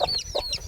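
A rooster in a home yard with hens and chicks gives three quick, close clucks in a short, evenly spaced run.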